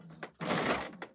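Sewing machine backstitching fabric for a bowl coozie: short stitching bursts, a quick stutter, then a sustained run of stitches and a final brief burst, close and fairly quiet.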